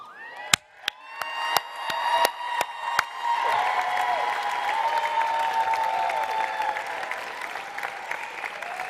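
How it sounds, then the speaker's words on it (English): A commencement audience at the University of the Arts breaks into sustained applause with some cheering; a few sharp isolated claps come first, then the clapping swells into a dense, steady roar that holds to the end. "Please join me in applauding your supporters."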